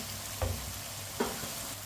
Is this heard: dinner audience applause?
no